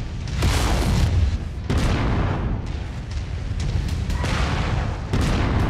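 Mech weapons fire in the MechWarrior 5 Mercenaries video game: loud, continuous booming barrages and blasts that hold steady with brief dips, dense and close throughout.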